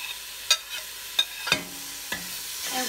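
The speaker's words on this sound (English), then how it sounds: "I'm gonna go ahead and add our garlic and our fresh tomatoes." Garlic and fresh tomatoes sautéing in a pan for chili beans: a soft sizzle underneath, with several sharp clanks and scrapes of a spoon against the pan at irregular intervals.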